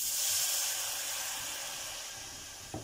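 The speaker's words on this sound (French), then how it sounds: "Un peu de vin blanc pour déglacer." White wine deglazes a hot pan with a steady, fairly quiet sizzling hiss that slowly fades, and a small knock just before the end.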